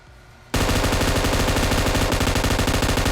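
Sudden burst of automatic gunfire in PUBG Mobile, likely an M249 light machine gun, erupting after a brief quiet start into loud rapid sustained shots at close range.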